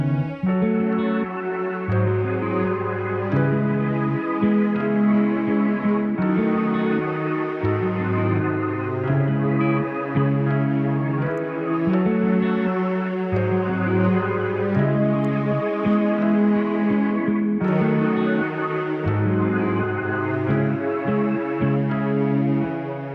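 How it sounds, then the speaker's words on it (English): Layered synth and instrumental melodies from the chorus of a remake, sustained and steady with rich harmonic layers and reverb, playing continuously and alone for over twenty seconds. "the melodics all together in the chorus sound like this"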